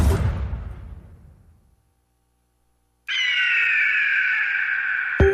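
A golden eagle's cry in a radio jingle, a sustained, bright screech that starts abruptly after a gap of silence and holds loud and alone.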